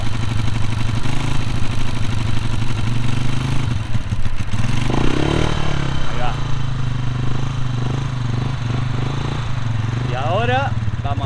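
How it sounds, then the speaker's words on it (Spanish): Siam Trender 150 motorcycle engine pulling away in first gear after the clutch is let out, a steady loud mid-pitched drone that rises slightly, while someone talks over it throughout. "Esta es una moto con embrague, entonces metemos embrague, pasamos al cambio, el número 1, a primera."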